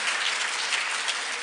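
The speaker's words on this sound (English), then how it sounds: "you guys give yourselves a round of applause" Applause from high school students at a science day event at the Salk Institute, steady and dense throughout.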